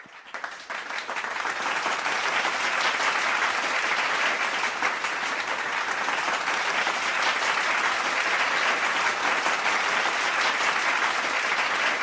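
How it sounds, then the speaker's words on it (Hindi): A crowd gives loud, sustained applause for promotion winners at a national achievement day celebration, a thick continuous roar of clapping that builds quickly and holds steady throughout. "एक बार जोरदार तालियों से उन सभी एसडी प्रमोशन विजेता के लिए जोरदार क्लैपिंग"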